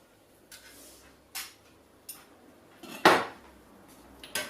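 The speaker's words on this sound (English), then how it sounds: "Get down the bottom, scrape off all the sediment that might be there." A metal utensil scrapes the bottom of a pan while making chicken bonne femme, several short separate strokes with one louder, harsher scrape midway, close and otherwise quiet.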